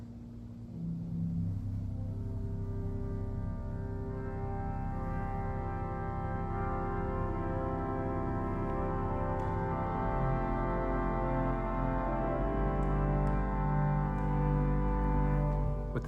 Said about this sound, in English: Then we have Vox Angelica and Vox Angelica Celeste